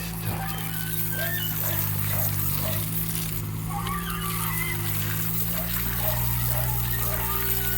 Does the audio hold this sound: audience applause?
no